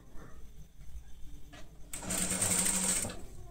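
Sewing machine stitching piping onto blouse fabric whirs into a fast steady run for about a second near the end, after soft handling noises and a brief start.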